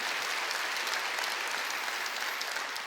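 Applause from a church congregation during a Sunday service in a gymnasium, broad sustained clapping from many people that stays loud and steady the whole time with no speech.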